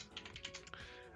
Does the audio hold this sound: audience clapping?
no